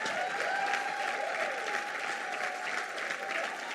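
A church congregation celebrating the church's tenth anniversary in a new hall claps steadily, a dense, continuous wash of applause from a large crowd.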